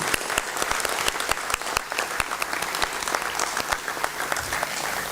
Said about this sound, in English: all the participants, they all deserve a round of applause